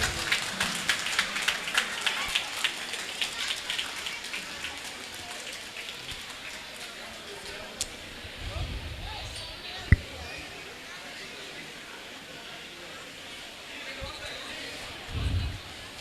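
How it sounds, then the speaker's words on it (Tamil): Audience applause at the KFT Awards 2023 show in Tamil Nadu, a steady dense patter of clapping that runs the whole stretch at moderate level, with a few louder bumps and murmurs underneath. "நல்ல கைத்தட்டு ஜோரா கொடுங்க."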